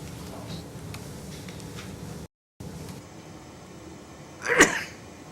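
A single sharp sneeze bursts out near the end amid the quiet room tone of a courtroom during a homicide trial, after a short stretch of low murmuring background.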